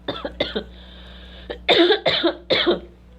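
A string of harsh throat-clearing coughs, close and loud, in short bursts with brief pauses between them.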